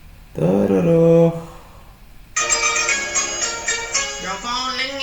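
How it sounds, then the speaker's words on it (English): A phone ringtone plays loudly and close, a short melodic tone phrase followed by a brighter, richer musical jingle, with nothing else heard. "Your phone ringing."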